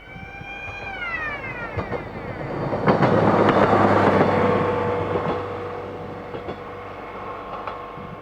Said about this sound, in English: The snowy conditions brought an unusual vehicle onto the East Coast Main Line during daylight hours, an engineer's track machine.